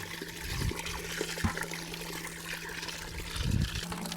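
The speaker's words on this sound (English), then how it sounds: "So we filled up a bucket of water." Clean water pours into a bucket from an off-grid solar-powered well system, a faint steady trickle and splash with a few brief louder gushes.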